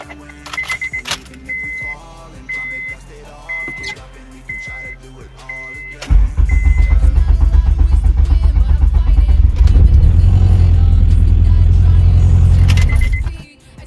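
A Honda CRX with a check engine light fault cranks and fires up, its engine then running loud and steady at idle after a few seconds of clicks and key jingling, with chime tones sounding before the start.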